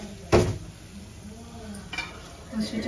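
A sharp burst of sizzling as mustard seeds drop into hot oil, then softer crackling and a few light kitchen clatters.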